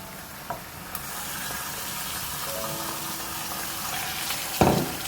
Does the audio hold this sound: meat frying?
yes